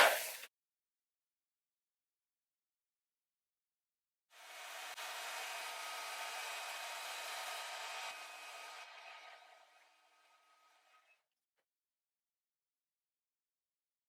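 A hair dryer runs steadily for about five seconds to dry acrylic paint on a fabric ornament, then winds down and fades, with a brief click at the start and otherwise quiet.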